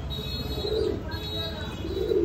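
A pair of old Mili Racer pigeons on a pigeon farm give soft, low coos, two faint calls over a steady background hiss.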